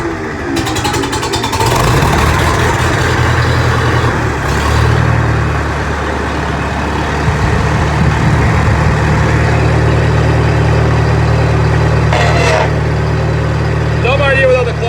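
A small tractor engine with a bit of choke runs steadily at a low, throbbing idle for the whole stretch, loud and close, with a slight shift in pitch partway through.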